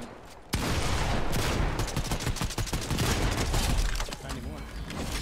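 Gunfire in a Fortnite match: a sudden loud burst of rapid shots, then a dense stretch of repeated cracks and bangs that thins out toward the end.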